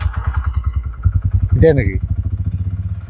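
A Bajaj Pulsar N125 motorcycle engine idles with a steady, close puttering pulse after a quiet silent-mode start, with brief speech partway through over the running engine.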